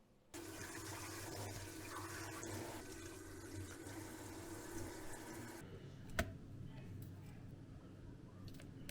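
Water runs steadily from a kitchen tap while napa cabbage is washed for kimchi, a continuous rushing stream that drops in level partway through, with a brief clunk near the end.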